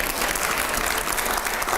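Sustained applause from a studio audience at a televised panel discussion, a dense steady patter of many hands clapping throughout with no voices over it.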